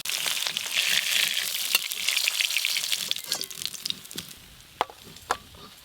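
Dried lentil dumplings (bori) fry in a pan for a bitter greens dish, a loud close sizzle with stirring that settles into quieter crackle and a few sharp utensil clicks.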